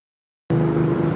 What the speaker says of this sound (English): there goes that blue pickup truck